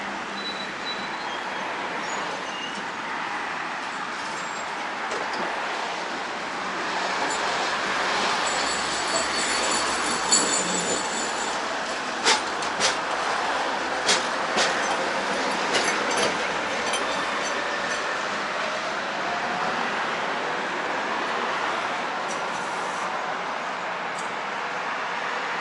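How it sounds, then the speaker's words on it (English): An old tram rumbles past at close range in Budapest, a steady broadband roar with metallic clatter and brief squeals from the wheels, fading slowly as it goes. "Here comes the old tram."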